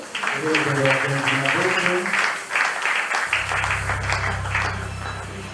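A church congregation at a Sunday worship service claps and cheers in acclamation, a dense sustained roar of many hands. A low steady hum of music or an organ-like drone comes in partway through, with voices mixed into the crowd.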